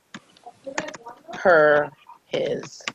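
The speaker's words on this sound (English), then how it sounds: "I'm typing as I speak." Computer keyboard typing during a committee meeting, heard as scattered quick key clicks mixed in with nearby talking voices and a brief voiced hum.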